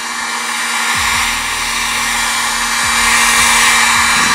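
A heat gun blows steadily and close up while warming the second side of a Kydex sheet being shaped into cosplay armor, a continuous airy roar with a faint tonal hum that holds level and swells slightly toward the end.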